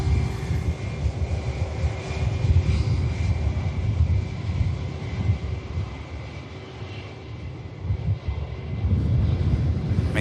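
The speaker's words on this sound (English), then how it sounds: "We'll just catch this quick touchdown from this Ryanair before we wrap" A Ryanair airliner touching down at Manchester Airport produces a low, rumbling engine roar with a faint steady whine, heard at a distance with some wind buffeting and swelling again near the end.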